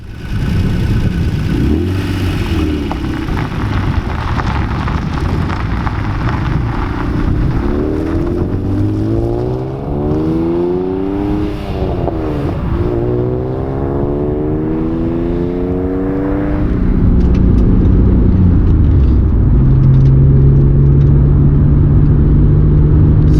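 A car drives along Gateway Canyon road, Colorado Highway 141, its steady engine rumble and road noise rising and falling through gear changes, with a louder, heavier stretch near the end; no talking.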